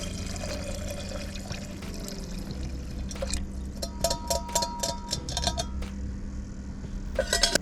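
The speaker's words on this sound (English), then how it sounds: "When the sausage has browned, we're gonna pour in our chicken broth" Chicken broth pouring into a pot of browned sausage for sweet potato soup, a steady liquid rush with a few clinks of metal against the pot, close and without talk.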